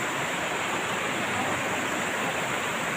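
A flowing mountain stream in rural countryside gives a steady, dense rushing and gurgling wash of water, close and continuous throughout with no voices.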